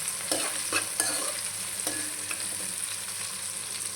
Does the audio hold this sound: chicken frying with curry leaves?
yes